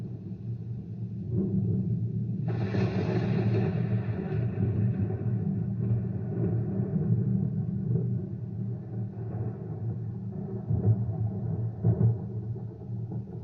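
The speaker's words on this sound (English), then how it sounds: "What you're hearing there is thunder that is made from rolling cannonballs along a roughly hewn trough above the heads of the audience." Theatre thunder effect made by cannonballs rolled along a roughly hewn trough above the audience: a long, deep, continuous rumble that rolls on steadily for many seconds, loud and without speech.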